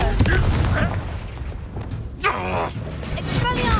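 A deep blast from the Confringo fire spell in Hogwarts Legacy booms under a character's shouted incantation, with crackling bursts and rumble in a busy, loud battle mix.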